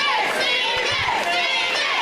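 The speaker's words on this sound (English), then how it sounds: "The crowd is chanting Stephen." An arena crowd at a wrestling show chanting a wrestler's name, a loud continuous roar of many voices with rhythmic shouting filling the whole moment.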